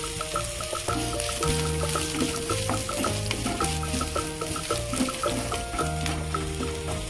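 Cauliflower patishapta filling with green chili and raisins frying in a pan, a steady close sizzle running throughout beneath a layer of soft background music.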